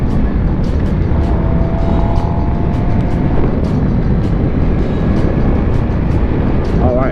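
Loud, steady engine drone and wind rush from a motorbike being ridden, continuous and close throughout, with a voice talking over it at times.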